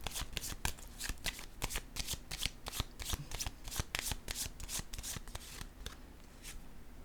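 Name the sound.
tarot cards being shuffled and drawn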